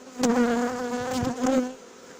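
A swarm of honeybees being hived hums in a steady, close buzz that thickens and swells in pulses, with no one talking.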